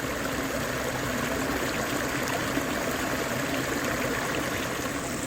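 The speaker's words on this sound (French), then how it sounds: "la mini cascade, déversoir plutôt, pour faire un test de son." Water pours steadily over a small weir, a continuous even rushing and splashing close by with no voices.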